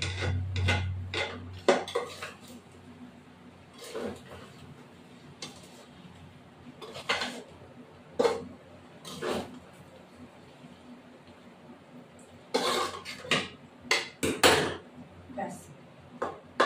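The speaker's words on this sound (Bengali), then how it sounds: "এবার একটু নাড়া দেবো।" A spoon clinks and scrapes against a cooking pot while food is stirred, irregular knocks and clatters spaced out over quiet background, fairly soft and close.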